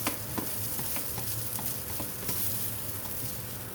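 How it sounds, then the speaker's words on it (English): Vegetables sauté in a pan with a continuous close sizzle and crackle, punctuated by occasional scraping stirs, steady and moderately loud with no voices. "now I got my vegetables sauteed"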